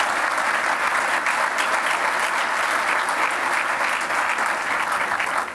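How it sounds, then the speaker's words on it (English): A large audience at New Orleans' State of the City address breaks into loud, sustained applause, a continuous roar of clapping hands that holds steady throughout. "so give yourselves a round of applause."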